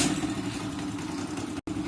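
Hero Honda Splendor motorcycle engine with its stock exhaust, heard close up as a steady, mid-pitched running hum with a very brief dropout near the end.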